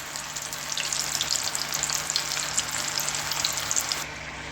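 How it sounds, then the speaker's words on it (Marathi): Chickpeas sizzle steadily in hot oil for a Koliwada-style snack, a dense, close crackling hiss that holds throughout and drops off slightly near the end. "आधी थोडेच असे तळून बघते की व्यवस्थित होतात का।"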